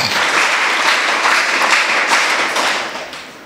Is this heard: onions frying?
no